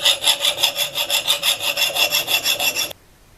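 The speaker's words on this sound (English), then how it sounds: "With the handle on, I can now give it a good sharpening." Steady back-and-forth rasping strokes as a hatchet blade is sharpened after re-hafting, about ten even passes per three seconds, close and loud, then stopping abruptly into near silence.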